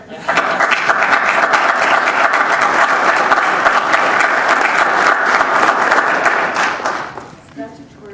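A meeting room bursts into loud, dense applause for a newly appointed Justice of the Peace, holding steady for about seven seconds before tapering off, with a voice briefly heard as it ends.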